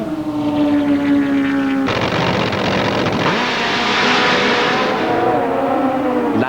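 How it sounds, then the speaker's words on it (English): A 1997 Pro Star top fuel drag bike makes a qualifying run at night: a droning engine tone at first, then an abrupt, loud, sustained roar that swells and fades slightly over several seconds. "As night fell, other top fuelers raced their third and final qualifying runs."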